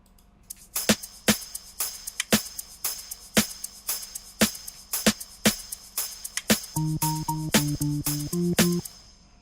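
An amapiano groove with sharp, regular hi-hat ticks locked to punchy drum hits. Short tonal bass-like notes join near the end, and no voices are present.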